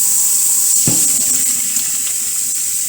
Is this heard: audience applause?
no